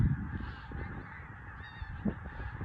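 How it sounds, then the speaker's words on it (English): Pink-footed geese honk over a marsh, a steady murmur of calls carrying from a distance with a couple of slightly louder honks standing out. "all them pinkfoot geese are going to go and drop over Hambleton, Burrows Marsh way"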